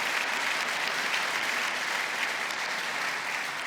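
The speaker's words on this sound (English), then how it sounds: "Let's give them a round of applause." A crowd at a grand opening ceremony for a student union at a technical college applauds elected officials, with steady dense clapping from a large audience filling the whole stretch at an even level.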